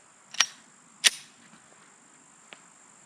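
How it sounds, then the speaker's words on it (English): A Glock 48 MOS pistol loaded with Spear Lawman 115 grain TMJ rounds fires at egg targets outdoors: two sharp shots about half a second apart, then a fainter distant crack, with no talking. "All right, 10 rounds, Spear Lawman, 115 grain, TMJ. I'm gonna try to get those eggs."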